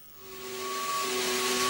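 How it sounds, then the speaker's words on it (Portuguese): Rising electric whine with steady tonal hums and a broad airy hiss, swelling louder over under two seconds, played as a mock Ferrari hair dryer with a turbocharged six-cylinder engine. "Aqui está o som do novo e ultramoderno e tão esperado secador de cabelo da Ferrari."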